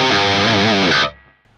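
A distorted guitar through the Axe-Fx III 5150 amp model with mids pushed forward rings out as one loud sustained chord, then stops sharply and leaves a faint tail.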